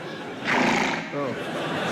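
A horse whinnies in a short, shaky neigh that rises and trembles, heard fairly close amid some background noise.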